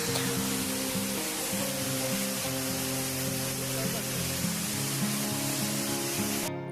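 A waterfall in the Neelum valley of Kashmir gives a steady, dense roar of falling water, constant and fairly loud throughout with a faint low hum beneath.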